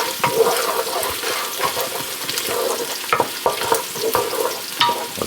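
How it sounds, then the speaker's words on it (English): Garlic and crushed red pepper fry in a pan with a steady, close sizzle, broken by repeated clinks and scrapes of stirring throughout. "this is where you want to crisp up the garlic. Get it crispy"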